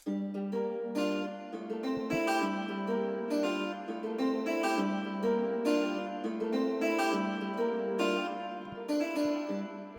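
An Afrobeats beat made in FL Studio, processed through Fruity Chorus, Fruity Parametric EQ and Fruity EQ with much of the low end cut, plays as a steady loud loop of bright layered synths and regular percussive hits, alone without talk.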